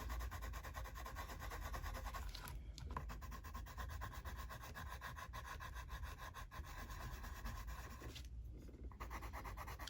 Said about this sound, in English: Oh, I hate burnishing.